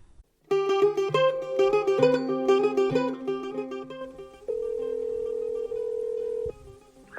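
An outgoing telephone call from London ringing, a single long steady ring tone heard alone after a stretch of plucked melodic music.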